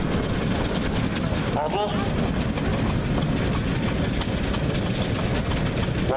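A Wallace and Stevens Advanced 6-ton traction engine from 1929 rumbles steadily past at an outdoor vintage rally in Anglesey, a continuous low mechanical chug under crowd noise and a commentator talking over the sound.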